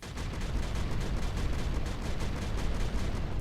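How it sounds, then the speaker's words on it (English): A thermal cannon fires in a battleship strategy game, a loud, dense, roaring blast sustained throughout with rapid pulsing texture, no speech. "Thermal cannon."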